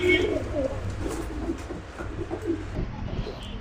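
Tamral patta fancy pigeons coo nearby, soft throaty low calls repeating over a faint hum and a bit of background murmur.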